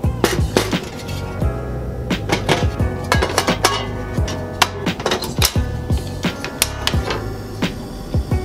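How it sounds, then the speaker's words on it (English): Metal pots, lids and a portable stove clatter as they are set up for heating sake, with repeated sharp clinks and knocks at an uneven pace, close and fairly loud, with no voices. "So let's get the portable stove going."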